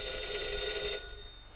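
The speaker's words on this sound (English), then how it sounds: "That's your phone, isn't it, Mr. Applegate?" Telephone bell ringing indoors in a quiet room for about a second, then stopping, leaving faint background hum.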